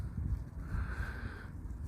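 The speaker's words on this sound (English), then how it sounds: "You see it's quite windy." Steady wind blows at a nature reserve island campsite near dusk, a soft continuous rush buffeting the microphone with no speech.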